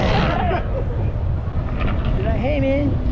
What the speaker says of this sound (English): That's his exhaust.